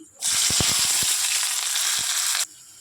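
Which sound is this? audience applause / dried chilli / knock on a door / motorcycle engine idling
dried chilli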